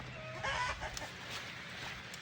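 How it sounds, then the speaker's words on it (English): Chickens in a backyard coop cluck in short bursts, fairly near and moderately loud over steady outdoor background hiss, with a brief bird call mixed in. "We're literally right next to the chicken coop"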